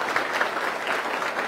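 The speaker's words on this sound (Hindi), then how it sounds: "एक बार तालियां बजा के स्वागत करें उसके।" A crowd of students claps steadily at a Teachers Day event, a dense wash of applause at moderate distance with no voices standing out.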